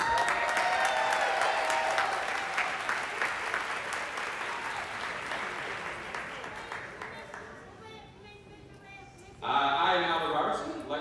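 An audience at a Teacher of the Year awards event applauds the announcer, an assistant principal, with sustained dense clapping that slowly fades, followed by a voice on a microphone.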